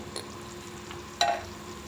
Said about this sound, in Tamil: ஒரு கொதி வரட்டும், பார்த்துடலாம்